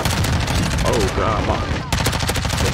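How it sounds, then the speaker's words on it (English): Bursts of rapid automatic gunfire from a teammate's weapon in Modern Warfare 2 on the Shipment map, loud and close. Dense volleys crackle through most of the stretch, with a brief lull before the shooting resumes. "my teammate shot at me, scared the hell out of me"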